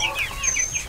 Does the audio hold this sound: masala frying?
no